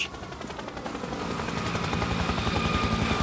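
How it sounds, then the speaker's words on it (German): A helicopter flies overhead in the video game Spec Ops: The Line, its rotor chopping in a fast, steady rhythm that grows slightly louder as it approaches, with no talking. "Langsam, da kommt ein Heli."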